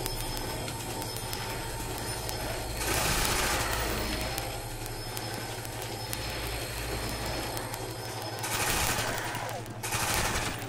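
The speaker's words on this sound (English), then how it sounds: "Oh, I love how my little mag tears through the zombie's flesh." Rapid automatic gunfire aimed at zombies in a video game rattles continuously and loudly, swelling into heavier bursts at moments, with voices talking faintly beneath.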